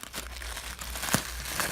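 Gorilla duct tape pulled off its roll, giving a close crinkly, tearing rasp with a sharp crackle near the end, fairly quiet and with no talk.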